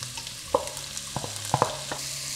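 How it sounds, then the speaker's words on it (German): Steady sizzling of onion and leek frying in hot oil, with a few light clicks and scrapes of stirring. "Wenn das Öl erhitzt ist, dann gebe ich die Zwiebel rein und Porree."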